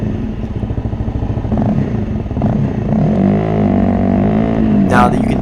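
A Honda CRF250L motorcycle fitted with a 15-tooth front sprocket accelerates off-road from a standstill, its engine note rising through the gears, loud and close, with a brief clatter at the end.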